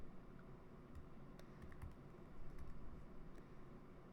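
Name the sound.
typing on a computer keyboard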